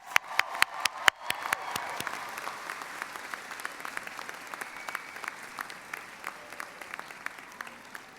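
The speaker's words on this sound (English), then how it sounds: "Let's give them a round of applause." Applause from a graduation audience at a North Shore Community College commencement, a dense crowd of clapping with sharp individual claps near the start that settles into steady, moderately loud applause.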